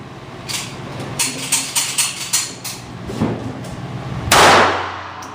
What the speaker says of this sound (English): She's shooting for the middle.